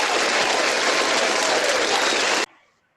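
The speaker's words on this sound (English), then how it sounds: "That was a very weird round of applause." Round of applause on a Zoom call during an online certificate presentation, a dense, loud, uniform clapping sound that cuts off abruptly after about two and a half seconds, followed by near silence.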